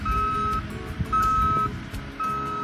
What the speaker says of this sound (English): He just really likes driving the loader, tearing that thing right apart.